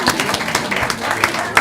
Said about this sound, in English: give him a round of applause, and Carla too.